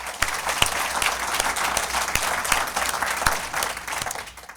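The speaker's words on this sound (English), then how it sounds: "So a big round of applause to everyone in the room." An event audience bursts into steady, full applause, dense clapping from a roomful of people that carries on evenly before tapering off at the end.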